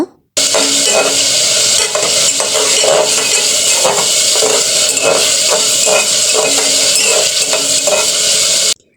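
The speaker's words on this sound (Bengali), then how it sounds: "এর মধ্যে আমি চিংড়ি মাছগুলো দিয়ে মাছগুলোকে একটু কষিয়ে নেব" Shrimp being sautéed in spice masala, with loud, close, rhythmic stirring strokes scraping through the pan over a continuous frying sizzle from start to finish.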